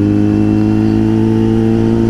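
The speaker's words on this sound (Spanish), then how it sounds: "Una de las cosas que más me gustan a mí de los motores de 3 y 4 cilindros, el sonido." A Kawasaki Z900 four-cylinder motorcycle engine runs loud and steady up close, a dense even drone holding at a constant pitch throughout, with no speech over it.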